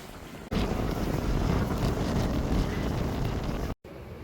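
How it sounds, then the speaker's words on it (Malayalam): Steady wind gusts over a boat on a river amid mangroves, with a light drizzle falling; a continuous rushing roar holds for about three seconds at close range, then drops out abruptly and returns faintly. "നല്ല കാറ്റ്, മഴയുണ്ട്,"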